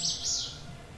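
Birds chirp briskly and close by near a forest edge bordering gardens, hayfields, pastures and a dairy barn, with high bright calls running across a short moment.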